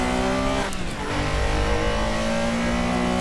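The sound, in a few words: Porsche RSR flat-six 3.0 engine revving, Assetto Corsa video game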